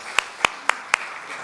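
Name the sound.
audience applause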